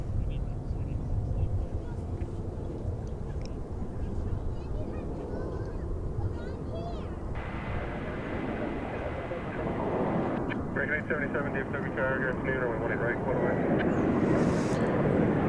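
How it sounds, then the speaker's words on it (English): American Airlines Flight 1957 coming in to land at DFW: a fairly quiet, distant jet engine rumble holds steady throughout, with some broadband whine rising toward the end. "American Flight 1957 is coming in here."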